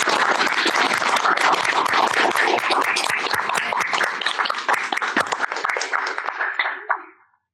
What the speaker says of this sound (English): And another round of applause for Laura